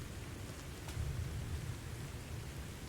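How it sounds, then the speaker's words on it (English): Distant thunder rumbles low beneath steady rainfall in the military game Arma Reforger, swelling briefly and then fading back into the continuous hiss of rain, with no voices. "Almost sounded like distant thunder."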